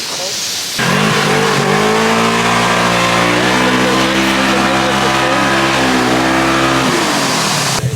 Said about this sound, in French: On conduit un buggy mais du coup ce qui est hyper drôle c'est qu'on va faire des drifts.